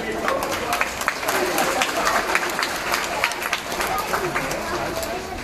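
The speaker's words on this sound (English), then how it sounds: "Clap, give me a clap" Crowd applause at a sea lion show, a steady, dense patter of many hands clapping, with scattered louder claps and light crowd chatter running underneath throughout.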